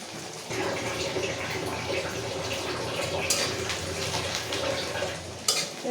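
Water poured into spice paste for dal and stirred in a kitchen bowl, a steady splashing trickle with light clinks of utensils against the dish, close and continuous, a sharper clatter near the end.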